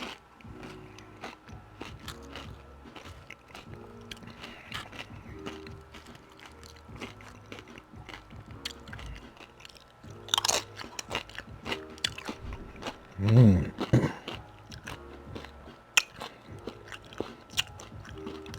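Flamin Hot chips and loaded nachos are chewed up close in a mukbang, with repeated crunchy bites and chewing, a few sharper louder crunches toward the end, and no speech.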